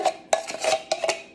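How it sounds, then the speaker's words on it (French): A spoon scrapes condensed milk out of a container in a handful of short, close metallic scrapes, about six strokes in quick succession with no talking. "on prend cette belle cuillère, on racle"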